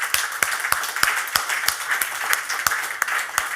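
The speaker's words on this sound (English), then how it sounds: "Give him a big round of applause" A live audience at an investing event claps in a big round of applause, sharp hand claps ringing out close by in a steady, slightly uneven rhythm with no talk over them.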